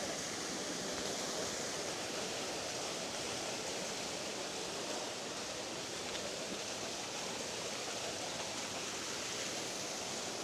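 Waterfall in Padley Gorge, a constant broadband roar of rushing water that holds steady and fairly loud for the whole stretch with no voices over it.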